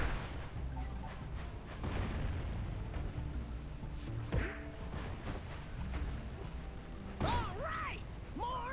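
Bombs go off in the Jak and Daxter video game to bust open metal boxes, dull booms over a steady busy game soundscape, followed by bright chiming pickup tones near the end.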